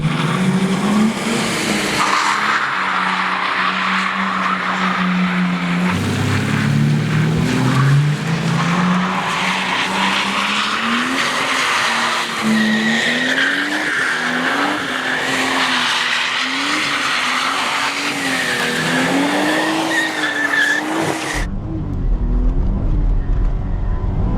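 A Nissan Skyline R34 skids, its engine revving and rising and falling in pitch while the tires squeal loudly and continuously, up close, before the sound abruptly cuts off near the end.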